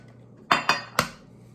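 Room-temperature eggs cracked against the rim of a separate mixing bowl: three sharp, close taps in quick succession, with no talking and a quiet background.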